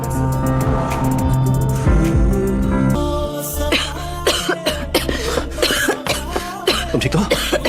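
Harsh, repeated coughing in a rapid series of bursts over dense background music and noise.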